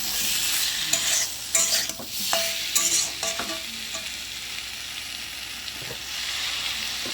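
Spices and vegetables frying in a pan and being stirred: a constant sizzle runs underneath, with several scraping, clinking strokes of the spoon early on, then the sizzle continues alone.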